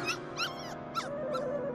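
A dog whimpers and yips in a series of four high, wavering whines, close and fairly clear, over a faint steady hum in a television comedy scene.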